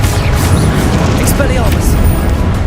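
A Confringo blasting spell detonates in Hogwarts Legacy, a booming burst sitting under a player loudly shouting spell names amid ongoing combat noise.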